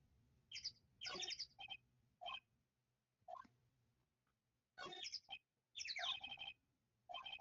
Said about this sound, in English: What is up with that bird? It's making weird noises.